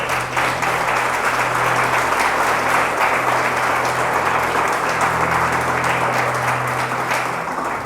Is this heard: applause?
yes